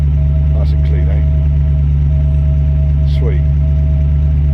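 A 1994 Range Rover engine idles with a steady, deep, low burble throughout. Voices talk over the constant rumble.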